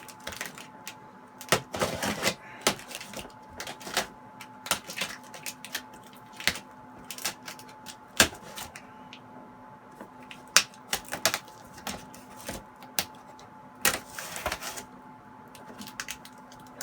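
A cardboard shipping box from a Japan import is cut open, with irregular sharp clicks, scrapes and short tearing bursts spread over a quiet room hum, close and fairly faint.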